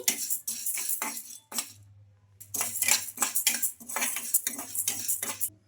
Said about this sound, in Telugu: ఈ మూడు పప్పులు మంచిగా కొంచెం కలర్ వచ్చే వరకు అయితే ఫ్రై చేసుకోవాలి